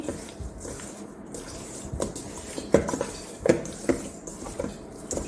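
Wet squishing and soft clinks of chicken being tossed with oil and seasoning in a bowl, with a few sharper knocks against the sides.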